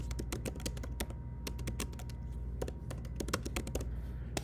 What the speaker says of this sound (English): You can just start typing what you want to type.